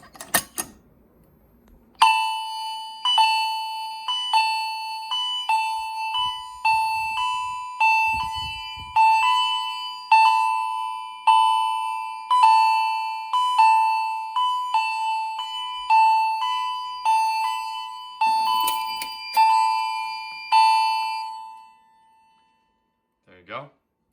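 A 2nd generation FCI MS-2 fire alarm panel sounds its chimes: bright, ringing strikes repeat at a steady pace for about twenty seconds, each decaying before the next, then stop abruptly.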